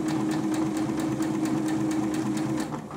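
A sewing machine stitching a dishcloth made from fabric scraps, running steadily with a fast, even mechanical hum and ticking needle strokes, close by, then slowing at the end.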